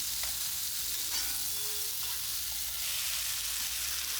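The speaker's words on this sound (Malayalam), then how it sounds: "കുരുമുളക് പൊടി, ഗരം മസാല, ഇതെല്ലാം ചേർത്ത് നമ്മൾ നന്നാക്കി ഇളക്കി എടുക്കുകയാണ്" Curry spices, black pepper powder and garam masala, frying in a pan, a steady loud sizzle with faint stirring scrapes, close and continuous.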